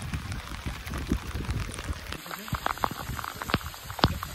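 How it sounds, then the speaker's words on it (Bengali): Heavy rain pours down during hook-line fishing, a rough crackling patter of drops with scattered sharper splats close by and a faint, muffled voice at times. "বৃষ্টি দেখুন, সে প্রচুর বৃষ্টি শুরু হয়ে গেছে"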